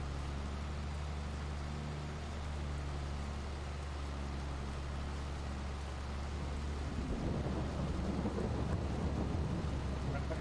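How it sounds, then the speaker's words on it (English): Rain and rolling thunder from a storm in Farming Simulator 22, a steady wash of downpour with deep low rumbling underneath that swells louder toward the end. "Always a thunderstorm, not just normal rain."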